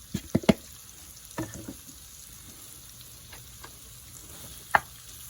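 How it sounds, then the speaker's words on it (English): Beef stew meat browning in a thin layer of oil in a pan, a soft steady sizzle with a few sharp knocks and clatters near the start and one more near the end, close but fairly quiet. "We're gonna just put a little oil in there, just enough to coat the bottom, and then we're gonna brown our beef."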